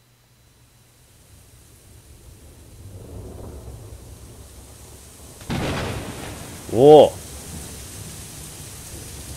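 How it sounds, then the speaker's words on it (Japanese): Heavy rain pours steadily in the romance adventure game Kaze no Ryuuto, a dense hiss that thickens into a brief thunder-like burst near the end, while a man exclaims over it. "何この雨、滝みたい"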